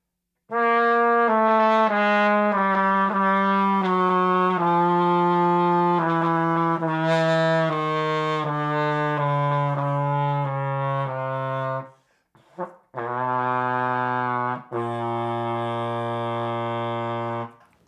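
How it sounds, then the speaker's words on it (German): A mellow flugelhorn, extended with added tubing, plays a sequence of sustained tones stepping steadily downward through its fingerings, with brief pauses near the end before a final low note. "Ich spiele jetzt mal mit dem umgebauten Flügelhorn durch Zusatzröhren"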